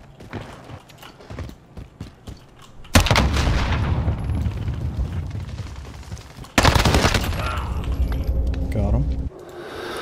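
Rapid automatic weapon fire in the shooter game Modern Warfare, a free-for-all match: two long, loud, dense sustained bursts with a high rate of fire, separated by a short pause, following quieter movement sounds.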